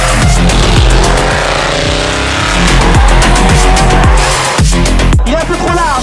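Cars drifting at the Drift Cup 2022 event throw out loud, close tire squeals and revving engines in repeated rising and falling sweeps, with bursts of skidding screech.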